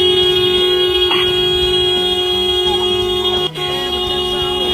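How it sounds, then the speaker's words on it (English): A car horn blares in a continuous, steady honk in a Starbucks parking lot, a sustained tone held for several seconds, briefly dipping near the end, with no talking over it. "She's been here the whole time at Starbucks honking at Austin."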